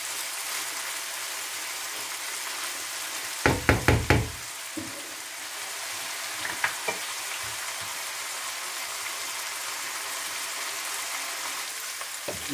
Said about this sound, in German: Und ein bisschen durchrühren.